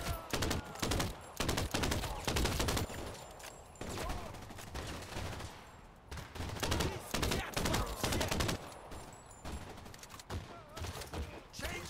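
Sustained gunfire in Crime Boss Rockay City, rapid loud shots in repeated bursts across the whole stretch, close and dense, with occasional talking between volleys.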